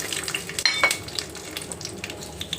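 Chana dal sizzles and crackles in a hot pan while cooking for a chutney, a steady, soft frying hiss with a couple of sharper pops as the lentils go in.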